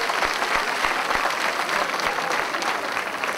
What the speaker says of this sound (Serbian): A ja se nadam da ste ih vi nagraditi aplauzom